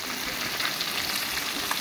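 Fish sizzles in hot oil in a pan on a home kitchen stove, a steady, close, even crackle that holds for the whole moment with no voices.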